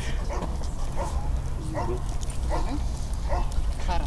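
A puppy gives short whimpering yips and small barks, roughly four brief bursts spaced about a second apart, close by during an obedience and working test, over steady low background noise.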